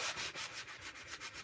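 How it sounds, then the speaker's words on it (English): Rhythmic back-and-forth rasp of sandpaper on a wooden sign, about a dozen quick even strokes, close and fairly quiet. "we'll just do a little sanding first,"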